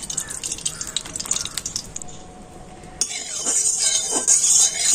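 Mustard oil poured into a hot wok: a few light clinks and drips, then a loud, steady bright sizzling hiss takes over and keeps going close by.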